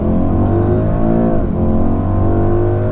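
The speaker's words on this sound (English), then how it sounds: "Foot on the brake, accelerate, off the brake, blast off." 2021 Mercedes-AMG GLE 63 S launching under launch control, its engine loud and close, roaring as it pulls hard through the gears, with a brief dip at a shift before revving climbs again.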